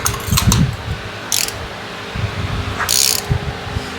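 A torque wrench tightening spark plugs on a Mini Cooper engine, with short bursts of ratcheting clicks close by, separated by quieter pauses and faint mechanical handling.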